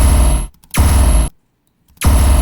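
Heavily time-stretched gun sample for tearout-style dubstep production: loud, dense noisy bursts cut off abruptly, three blasts separated by short silences, harsh and unfaded.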